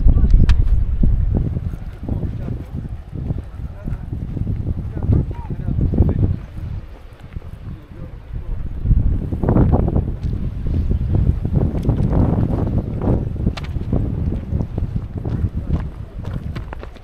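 Strong, gusty wind buffets the microphone outdoors near the water at the Kalandzha 42 km race, making a loud, continuous roar with surging gusts throughout and no voices.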